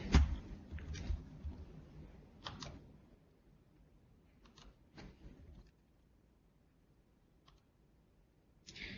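A computer mouse clicks a handful of times, short sharp taps separated by pauses against quiet room tone, with a faint rustle near the start.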